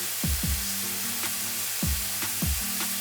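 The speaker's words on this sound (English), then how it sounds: "The whole point of me cooking it like this, like a burger patty, flattening it down, seasoning it, and then flipping it once it's crispy on one side" A seasoned bison patty, flattened like a burger, fries in a pan with a steady close sizzle, broken by a few pressing and scraping strokes of a spatula.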